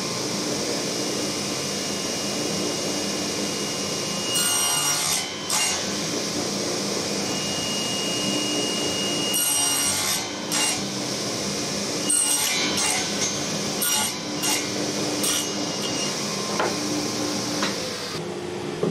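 A power tool cuts a 3/4 inch dado into wood, giving a continuous loud machine whine with harsher bursts each time the cutter bites into the board.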